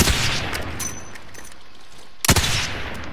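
Gunfire in a multiplayer shooter game: an opening flurry of rapid shots eases into sparse distant pops, then one loud, close burst lands near the end over steady background noise.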